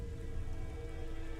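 Steady rain falling and pattering on surfaces, a dense, even hiss that stays constant with no voices.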